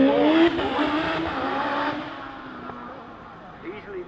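A hill climb race car at Loton Park brakes hard into the Triangle corner and then accelerates away. The engine note drops and climbs again, and a commentator talks over it the whole time.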